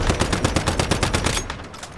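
Rapid automatic gunfire from a weapon in the video game Destiny, a fast loud burst of shots that thins into a few sparser rounds near the end, with no talking.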